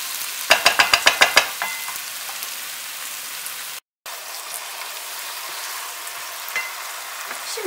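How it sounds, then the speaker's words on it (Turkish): Chopped mushrooms fry in a tomato paste sauce, a soft steady sizzle heard alone, with a quick run of sharp stirring clatters near the start and a brief dropout midway. "Ve mantarlar yumuşayıncaya kadar pişireceğim."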